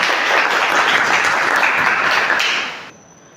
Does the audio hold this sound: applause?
yes